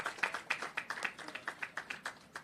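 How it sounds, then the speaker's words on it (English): Light, steady hand clapping from a small audience at an agriculture and fisheries ministry talk show and dialogue, the claps quick and evenly spaced, fairly faint and distant. "We have to clap, Sir Spence, come on."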